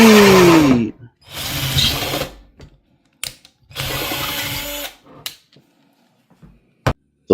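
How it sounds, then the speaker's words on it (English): A power drill bores a hole in the cap of an Alesmith San Diego 394 Pale Ale growler: loud whirring bursts start and stop with a falling pitch, separated by short pauses and sharp clicks. "I drilled a hole in the cap."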